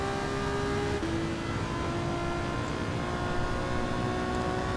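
A race car circles Lago Maggiore in Gran Turismo 7, its engine holding a steady mid-level drone with a brief pitch shift near the start, tire and road noise filling the background, without voices.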